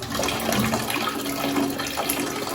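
Water gushes steadily out of a leaking pipe cock, a dense, unbroken rushing hiss that stays loud and close throughout, with no talking over it.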